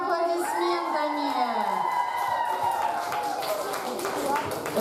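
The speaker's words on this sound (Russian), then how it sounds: "Встречаем бурными аплодисментами." Children at a summer camp creative party erupt in loud cheering, whooping and clapping, with shrill voices rising and sliding in pitch over a dense crowd roar that fills the whole stretch before tailing into scattered shouts.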